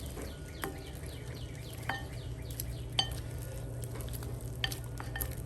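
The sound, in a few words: hot wings tossed in sauce with a spoon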